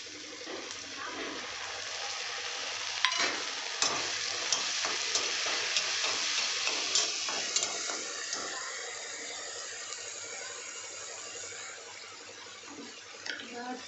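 A spoon stirs mushroom curry in a pan, with a steady sizzle and scattered scraping clicks against the pan, close and moderate in level, while someone talks intermittently.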